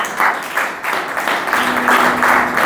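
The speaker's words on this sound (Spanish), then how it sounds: "Queremos comenzar dándole un fuerte aplauso al Rey de Reyes y al Señor de" A church congregation claps at a Spanish-language service, loud and sustained, with rhythmic bursts and a faint held tone partway through.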